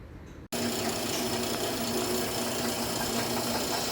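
A Trizact belt grinder switches on abruptly and runs steadily while sanding the blade of a Japanese deba knife, a loud, dense abrasive whir with a constant motor hum that lasts to the end.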